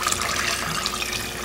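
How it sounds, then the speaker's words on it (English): Tap water rushing steadily into a stock pot, a continuous close, loud splashing hiss with no talk over it. "I'm going to add water to both of these pans."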